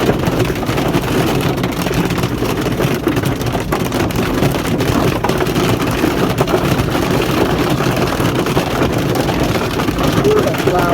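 Heavy storm rain and wind batter a car, making a dense, loud, steady roar that stays close and unbroken for the whole stretch.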